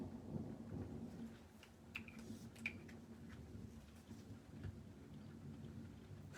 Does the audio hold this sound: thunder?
yes